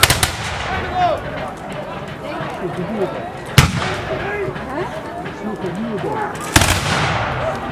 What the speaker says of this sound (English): A good volley by the rebels.